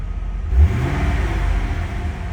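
1989 Chevrolet Corvette V8 revving once in a short, deep burst, then settling into a steady low rumble heard close up.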